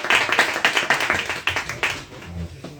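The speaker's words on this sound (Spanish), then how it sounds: "lo primero es dar un aplauso muy grande a Guillermo y a Rafa y a los que llevan esta librería" Small audience in a bookshop clapping for the owners, a modest group of distinct hand claps with a loose uneven rhythm, close by, tapering off toward the end.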